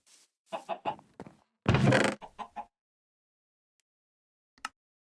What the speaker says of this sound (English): And now we have 4 chickens. In a chicken coop.